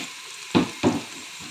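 Onions hit a hot pan with two quick bursts of sizzle about a quarter second apart, close and fairly loud over a low background hiss.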